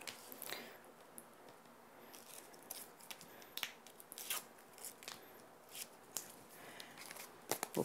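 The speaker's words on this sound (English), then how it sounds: "So we're going to go ahead and peel our pieces off here." Craft die-cut pieces are peeled away from a mounting-foam card backing, giving quiet, close crackling and soft tearing ticks in irregular bursts, faint and without talk.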